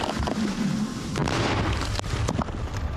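A sharp broadband boom from a distant mortar shot fired in combat, followed by a couple of quieter thuds amid steady outdoor noise.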